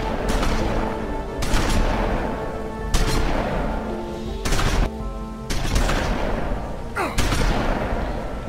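Gunfire in the video game The Wolf Among Us: a series of loud, booming shots about every one to two seconds, each with a ringing tail, mixed with game background sound.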